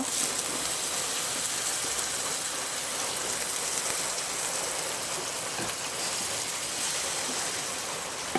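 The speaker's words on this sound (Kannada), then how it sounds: "ಈರುಳ್ಳಿ ಹೊಂಬಣ್ಣ ಬಂದಿದೆ ಈಗ ಮಿಕ್ಸಿ ಪೇಸ್ಟ್ ಹಾಕಬೇಕು" Ground masala paste frying with browned onions for chicken biryani, a steady broadband sizzle that holds at an even level throughout with no voices.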